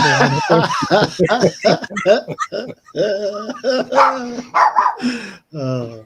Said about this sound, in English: somebody's dog's not happy about this.